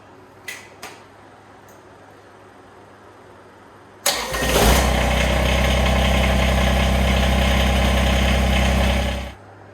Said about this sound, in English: now you want to start it actually and let the tractor motor run for 30 seconds